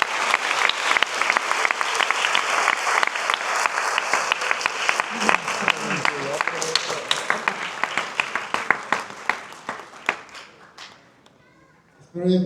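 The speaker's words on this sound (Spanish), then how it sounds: "Un aplauso para Victoria de los compañeros." An audience gives Victoria a long round of dense applause at the close of a simulated legal hearing with artificial intelligence. The clapping is loud and sustained, with a few voices underneath, before it thins out and fades near the end.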